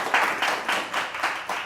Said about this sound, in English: Can I have a round of applause for Tyreek?